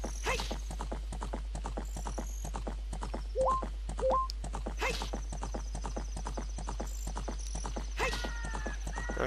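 Epona the horse galloping in Zelda: Ocarina of Time: a fast, steady clip-clop of hooves runs throughout over a low drone, with occasional chiming game cues and a few brief whinny-like calls.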